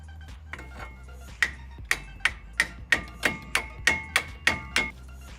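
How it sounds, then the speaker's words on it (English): A hammer repeatedly strikes a stuck, rusted brake part on a 1999 Chevrolet Silverado, about a dozen sharp metallic ringing blows in a steady rhythm, close and loud, with no talking. "I had to smack it with a hammer a couple of times"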